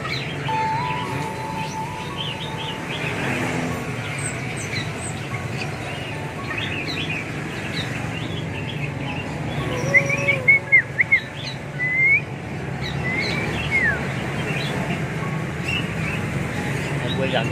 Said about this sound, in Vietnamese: Giọng hót của chim tiểu thang là cũng giống như chim chích chè đất nha anh em